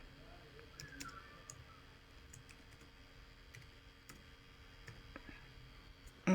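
A password is typed on a computer keyboard as a sparse, quiet scatter of key clicks and taps over low room hiss, with no talking.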